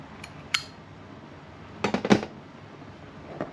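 A tobacco tin lid, on a tin of Peterson University Flake pipe tobacco, is pried and opened in a few sharp metallic clicks and scrapes, with one isolated snap early and a cluster of two or three louder clinks later, close and quiet.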